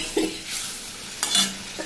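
Spice paste frying in a pan gives a soft sizzle, broken by a brief scrape of stirring and a sharp hiss as a little water hits the hot paste, cooking for a Bengali morola fish curry.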